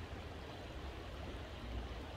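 Close and unbroken, the steady rushing flow of a little trout creek fills the space with no talking heard.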